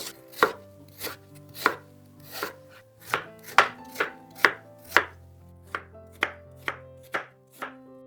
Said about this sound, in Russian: и режу средними кусочками.